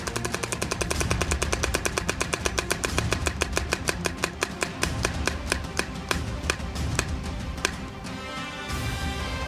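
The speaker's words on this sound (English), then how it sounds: "let's spin it and see where I'm off to for this round" A prize wheel is spun to pick an away match, giving a rapid run of loud, evenly spaced clicks that gradually slow down as the wheel loses speed, with no talk over it.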